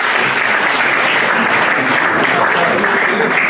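Dense, steady audience applause at a political party conclave closing ceremony in Brussels, many hands clapping together at an even loudness throughout, with no talk on top.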